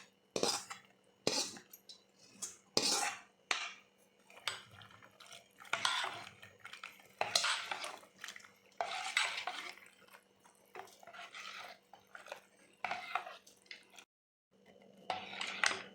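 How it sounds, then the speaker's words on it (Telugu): Tempered green chillies and onion are stirred into buttermilk with a metal spoon in a vessel, producing close, intermittent clinks and scraping bursts separated by short pauses. "ఇప్పుడు మనం తిరగబోసుకున్న పచ్చిమిరపకాయ, ఎర్రగడ్డ తిరగబోతంతా మజ్జిగలో వేసి బాగా కలుపుకోవాలి"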